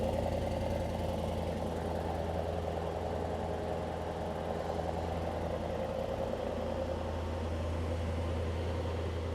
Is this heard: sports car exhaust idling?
yes